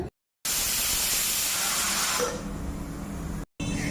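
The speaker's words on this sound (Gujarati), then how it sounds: "ચલો ત્રણ સીટી થઈ ગઈ છે તો આપણે ચેક કરી લઈએ" A pressure cooker boiling potatoes lets out a loud, continuous steam whistle and hiss that softens partway through, broken by two brief cuts to silence.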